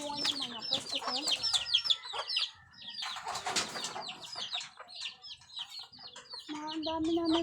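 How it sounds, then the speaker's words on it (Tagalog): A crowded chicken coop at a home, with many hens clucking and chirping in busy overlapping bursts, a few longer calls and brief wing flutters, close and fairly loud throughout. "Ang dami na ang manok dito."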